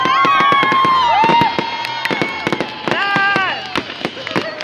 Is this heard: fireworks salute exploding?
yes